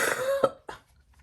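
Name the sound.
cough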